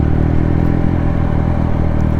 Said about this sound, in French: cette moto, qui est donc une Triumph Speed Triple RS de 2020, en blanc